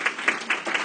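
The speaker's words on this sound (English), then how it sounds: "I think that deserves a round of applause" A crowd applauds after the top door knockers of a 2016 Trump campaign in Colorado are honoured, with bursts of clapping swelling and easing in quick pulses over a brief moment.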